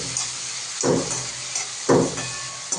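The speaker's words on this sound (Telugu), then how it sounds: "దీంట్లో సన్నగా కలుసుకున్న ఆనియన్స్ వేసేయాలి ఇది లో ఫ్లేమ్లో పెట్టుకొని చాలా వేగనివ్వాలి" Thinly chopped onions frying in oil on a low flame, a soft continuous sizzle broken by two short scraping stirs, close and moderately loud.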